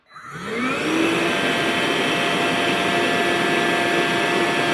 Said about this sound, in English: turn on the power switch on the vacuum just to see how loud it is